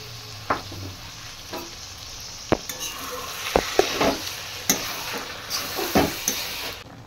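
Egg chicken tadka sizzles on high flame while a spatula repeatedly scrapes and stirs the pan, with sharp clanks over a steady frying hiss.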